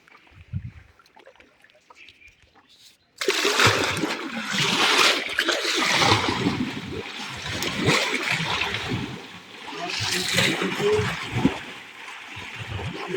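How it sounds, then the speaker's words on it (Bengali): Water in a biofloc fish tank holding shingi catfish is stirred by hand, bringing loud, churning sloshing and splashing close by after a few seconds of near-quiet. "জলটা একটু নাড়িয়ে দিলে মাছগুলো পাইপের মধ্যে চলে যায়"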